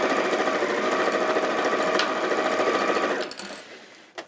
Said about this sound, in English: then we're simply going to sew along that raw edge, removing the pins or the clips as we sew.